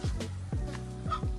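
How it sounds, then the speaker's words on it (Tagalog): Nearby geese and a turkey call out with a few honks and gobbling notes in quick succession, loud and close. "yung ating galsa at saka pabo"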